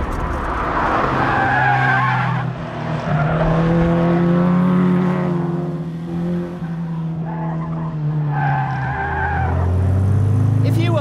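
A Lotus Elise sports car drives with engine tone rising and falling through gear changes, plus tire squeal and skidding, loud and continuous; a voice talks over parts of it.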